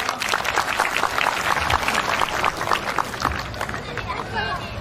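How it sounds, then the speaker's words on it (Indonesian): Audience at an Islamic sermon by a preacher breaks into sustained, dense clapping that fills the hall, with crowd murmur and a few voices mixed in throughout. "Mohon tepuk tangan semua"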